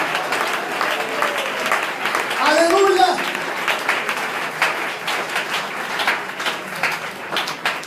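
A church congregation applauds during a sermon, a loud sustained patter of many hands throughout, with a shouted exclamation rising over it early on and other voices mixed in.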